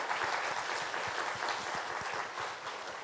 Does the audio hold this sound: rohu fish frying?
no